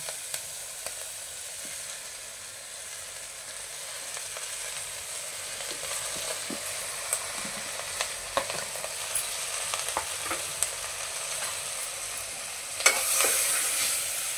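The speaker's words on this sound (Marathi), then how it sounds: "व्यवस्थित असं सगळं 2 मिनिटं परतायचं, हलवून घ्यायचं." Vegetables with red chilli powder and turmeric sauté and are stirred in a pan for pav bhaji, making a continuous bright sizzle with scattered scraping ticks that swell into a louder burst near the end.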